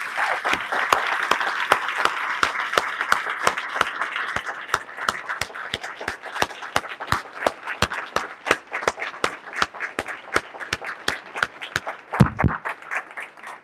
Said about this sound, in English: Let's all give Mr. Peoples and all our veterans a nice round of applause.